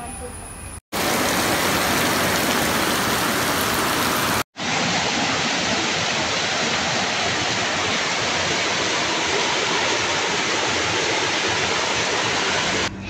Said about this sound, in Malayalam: അപ്പൊ ഗായ് നല്ല കിടിലൻ മഴയാണ്, രക്ഷയില്ലാത്ത മഴ